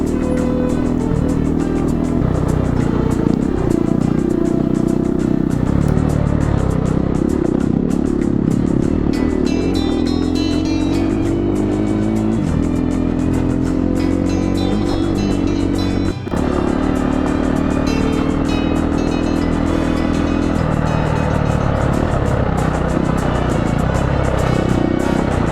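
Motorcycle riding a rough, washboard desert trail across washes in the Mojave, its engine droning steadily and loud throughout with rattling bumps and shifting revs, no talk.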